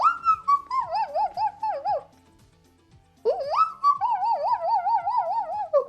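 A person imitates dog noises in two long, warbling whine-howls with wavering pitch, loud and close, separated by a brief quiet gap.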